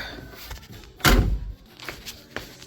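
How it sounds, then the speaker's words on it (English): A single solid slam as the door of an old car, left sitting for 20 years, is shut, followed by faint rattling settling sounds. "Closed the door and then rust fell on me."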